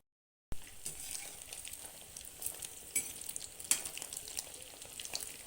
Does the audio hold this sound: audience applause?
no